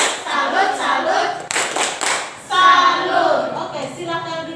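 A classroom group of teachers in training performs a rhythmic clap-and-chant salute cheer. Loud, close bursts of patterned clapping come with voices chanting, and there is a brief pause midway.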